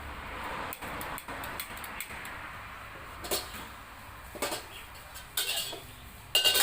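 Fiddlehead fern tossed with egg and glass noodles in a pan, light metallic clinks and scrapes of a utensil against cookware in irregular bursts, growing louder toward the end.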